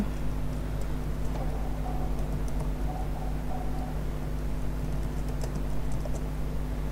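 Typing on a computer keyboard while setting up a Minecraft mod pack: clusters of light, rapid key clicks come and go over a steady low electrical hum, close and fairly quiet, with no talking.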